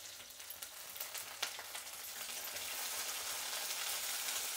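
Curry leaves and mustard seeds sizzle and crackle in hot oil while tempering for ven pongal, a steady bright frying hiss with a few sharp pops, growing slightly louder toward the end.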